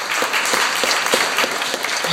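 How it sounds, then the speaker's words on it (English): Audience applause for a comedian at a stand-up comedy show, a dense, steady wash of clapping hands that stays loud and continuous throughout. "Give Steve a round of applause, man"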